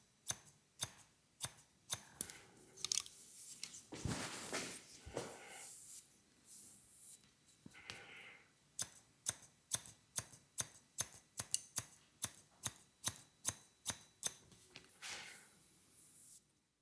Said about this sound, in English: I start texturizing the hair with straight scissors.